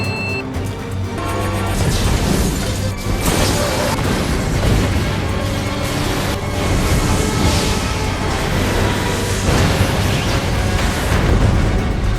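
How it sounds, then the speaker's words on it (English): A movie bomb blast destroying a laboratory, a loud, sustained rumbling roar of explosion and crashing debris with heavy low-end booms, continuous and full for the whole stretch. "The bomb blew up the entire lab."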